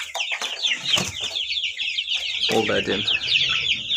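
Australorp and Kuchinsky chickens and chicks cluck and peep continuously close by, with a person speaking briefly over the birds.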